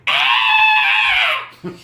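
A man screams in imitation of wrestler Norman Smiley's signature scream, one loud, sustained, strained cry held for over a second before breaking off, followed by a brief low grunt.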